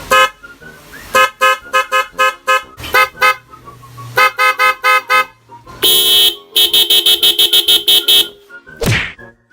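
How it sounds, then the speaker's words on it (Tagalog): A loud talking novelty car horn plays a series of rapid musical honks and melodic toots in bursts, ending with a descending siren-like sweep. "May mga busina dito na marunong magsalita tara pakinggan nyo."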